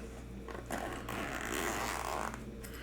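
A generic zipper pouch holding a knife is unzipped, giving a scratchy, continuous rasp that swells over about two seconds close to the mic, with no talking.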